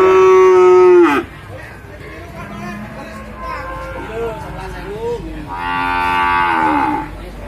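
PO cattle low at a livestock market, with two long, loud moos at the start and end and a quieter moo between, while people chatter in the background.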